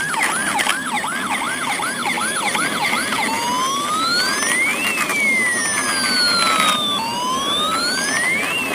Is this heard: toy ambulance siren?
yes